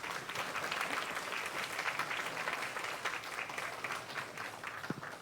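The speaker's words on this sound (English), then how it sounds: "Once again, a round of applause to the Philippine Air Force." Crowd applause for the Philippine Air Force at an outdoor anniversary ceremony for the Battle for Manila in Plazuela de Santa Isabel, steady moderate clapping that carries on throughout.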